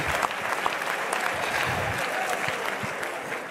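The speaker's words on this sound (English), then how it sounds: "Let's clap hands for our Polish brother" An audience at a political gathering of European leaders, activists and supporters applauds steadily, a dense crowd of clapping that holds for the whole stretch.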